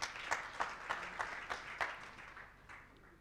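At a national public policy symposium on basic education, a thin round of applause comes as a few distinct, evenly spaced claps, faint and fading out toward the end.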